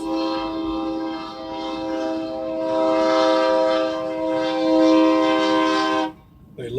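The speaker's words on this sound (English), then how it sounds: "this train goes to a rock quarry, and it just crawls across." A quarry-bound freight train crawls across a highway railroad crossing, its horn blaring in a long, loud, steady chord that swells mid-way and cuts off near the end, leaving a quieter rumble.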